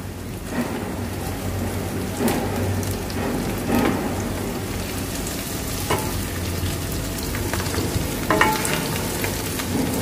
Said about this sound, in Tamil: வெங்காயம் கொத்தமல்லி கருவேப்பிலை நல்லா ஃப்ரை ஆகட்டும்.